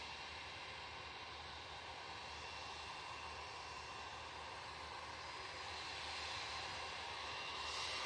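Vueling airliner at Manchester Airport, its jet engines giving a steady, broad roar that holds through the clip and swells slightly louder near the end, heard from a moderate distance with no talk.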